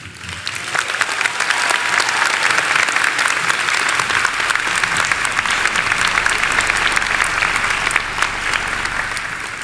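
A graduation ceremony audience bursts into loud, sustained applause, a dense wash of many hands clapping steadily for several seconds before easing slightly at the end.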